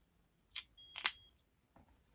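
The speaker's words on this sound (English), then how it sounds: "It made a beep, that's a good sound." A Digimon Xros Wars Mini handheld toy gives a short, quiet electronic beep, framed by a couple of soft plastic button clicks and handling taps, close up in an otherwise quiet room.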